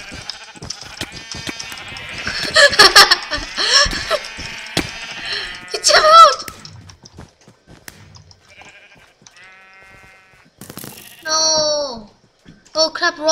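Several sheep bleat in a Minecraft minigame on Mineplex, short nasal calls scattered through the stretch amid game noise and clicks, with a louder burst of overlapping bleats early on and a few clear ones near the end.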